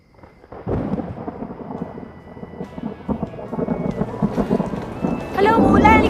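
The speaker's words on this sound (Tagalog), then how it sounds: "Hala, umuulan!" Heavy rain with thunder, a dense roar of downpour broken by low rumbles that build louder toward the end, with voices and movement mixed in.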